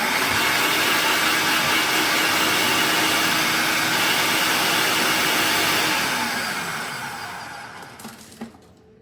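A food processor runs with a loud, steady whirring roar for several seconds while it is shaken, then winds down and stops, leaving a few faint knocks.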